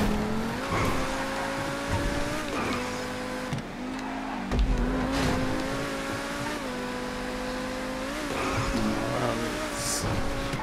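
Insurgent armoured vehicle driven in GTA 5, its engine droning steadily with shifting revs, occasional tire squeals and skids as it takes turns, continuous and fairly close.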